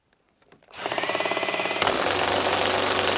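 DeWalt cordless drill spins up from a few light taps into a loud, strained whir under heavy load, with a rapid pulsing flutter as the motor struggles during a toughness test against other cordless drills.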